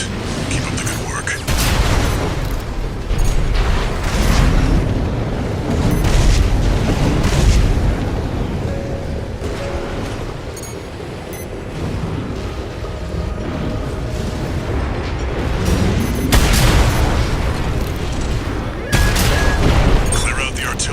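Heavy artillery fire and explosions in Armored Core 6: Fires of Rubicon, a steady barrage of loud booms and bursts rolling on for about twenty seconds, with voices talking over the combat.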